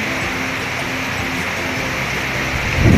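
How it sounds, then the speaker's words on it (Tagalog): Heavy rain pours down steadily during Typhoon Uwan in Valenzuela City, a dense, continuous hiss heard from indoors with a faint rumble growing near the end. "bumuhos na naman po ang napakalakas na ulan"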